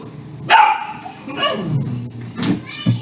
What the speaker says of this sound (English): That's the puppy, y'all.